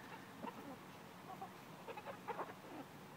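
Brahma and Polish chickens clucking softly, several short clucks and murmurs scattered over a quiet background, fairly faint and distant.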